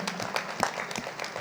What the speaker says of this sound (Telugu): సో ధ్యానానికి గట్టిగా క్లాప్స్ చేసుకుందాం.